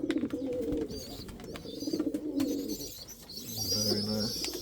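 Indian fantail pigeons and other pigeons coo in a loft, with repeated low throaty coos in overlapping bursts, close and moderately loud, plus a few higher chirps.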